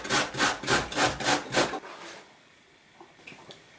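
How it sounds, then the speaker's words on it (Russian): Fresh zucchini rubbed down a coarse grater, about six rhythmic rasping strokes in quick succession, close and clear, then the scraping stops and only faint small sounds remain. "Натираем кабачок на крупной терке."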